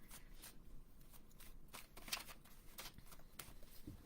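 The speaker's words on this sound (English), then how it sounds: "I'm just shuffling the cards up right now." Tarot cards are shuffled quietly by hand, a soft repeated riffling and flicking close by with no talking.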